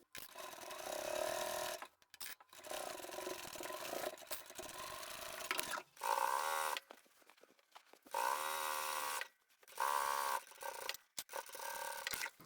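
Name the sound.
sewing machine stitching handbag fabric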